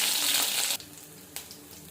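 Green chillies dropped into hot oil with popped mustard seeds give a loud, close burst of sizzling that cuts off abruptly, followed by a quieter crackle and a brief second hiss; no speech.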